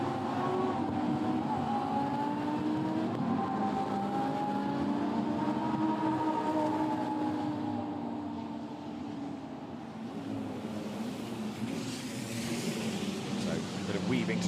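Lamborghini Super Trofeo race cars run behind a safety car at Spa, entering Blanchimont: a steady, droning engine roar with a slight swell and dip, continuous under race commentary.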